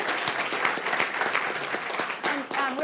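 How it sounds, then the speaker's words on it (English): An audience at a research-policy Q&A event claps in a round of applause, steady and fairly loud, with a voice speaking over the end. "So a round of applause to those folks."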